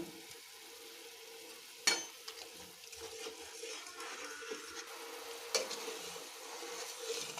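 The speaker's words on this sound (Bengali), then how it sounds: "দেখুন ঝোলটা ফুটে উঠেছে" Pomfret fish curry broth with cumin and dried chili paste simmers in a pan with a faint, steady bubbling hiss, broken by a couple of sharp utensil clinks.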